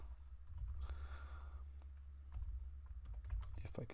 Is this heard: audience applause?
no